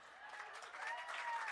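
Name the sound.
audience applause at a ceremony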